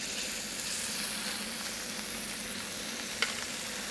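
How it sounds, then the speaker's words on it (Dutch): Beef tenderloin sears in a hot pan, making a steady, bright, close sizzle with faint crackles and one sharp tick near the end, heard alone without speech. "dan weet je dat je kan beginnen met bakken."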